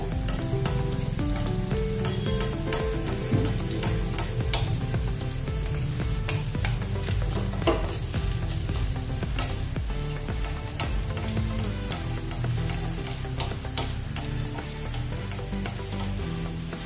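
Crisp suji and raw potato snack frying in oil in a pan, a loud, dense continuous sizzle with constant crackling that holds steady throughout.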